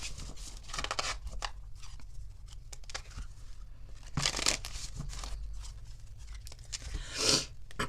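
Tarot cards being shuffled by hand, soft papery riffling and crinkling in quiet, irregular bursts, with two louder flurries partway through.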